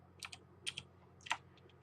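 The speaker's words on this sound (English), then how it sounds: "So inside here, let's just type" Short bursts of typing on a computer keyboard, a few quick close key clacks in small clusters with pauses between, no voices.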